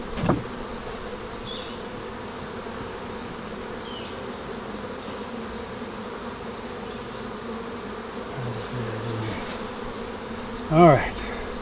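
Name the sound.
honeybees buzzing around a hive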